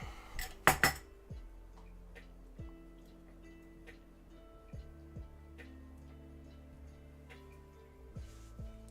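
Metal measuring spoons, tablespoon and teaspoon, clatter among kitchen utensils in a breakfast kitchen, with a sharp cluster of clinks near the start followed by quieter rattling and tonal tings, fairly close, with no talking.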